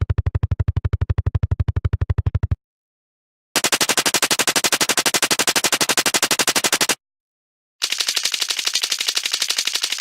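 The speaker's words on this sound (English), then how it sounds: "For the player's weapon fire, I used a similar approach to what I'd done for gunshot audio for my Wise demo reel project." Designed player weapon fire loops for a robot video game: three separate bursts of rapid, evenly spaced automatic shots, each a tight machine-gun-like rattle, with short silent gaps between bursts and a brighter, harsher texture in the last one.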